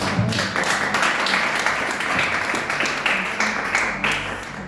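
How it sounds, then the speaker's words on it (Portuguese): A church congregation applauding during a sermon, a sustained wash of clapping with a few louder bursts, fairly close and steady throughout. "Vamos aplaudir Jesus, irmão."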